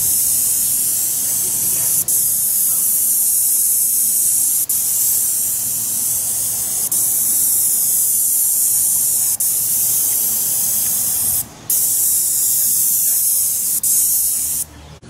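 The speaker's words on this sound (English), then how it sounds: "the pump we're using today is a Graco. It's called a Graco 495. It's an airless sprayer." A Graco 495 airless paint sprayer coats aluminum siding with a loud, continuous spray hiss. The hiss is broken by faint periodic clicks and a brief cutoff near the end, close to the microphone.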